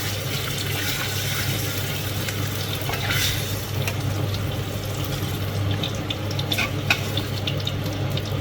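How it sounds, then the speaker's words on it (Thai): Meat frying in oil in a pan for a braised cabbage dish, a steady broadband sizzle with occasional crackles and stirring scrapes, close and continuous with no talking. "ลงไปทอดนะคะ"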